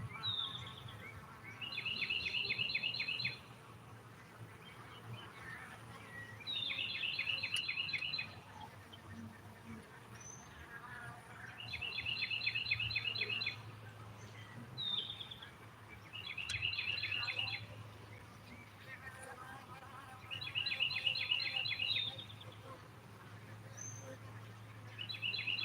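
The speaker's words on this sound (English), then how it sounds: "I didn't know if you could notice the birds kind of quieted down a little" Birds sing in repeated bright trilled bursts every few seconds after a solar eclipse, set against a steady low hum and faint insect buzz; the calls are clear but moderately distant, with no voices.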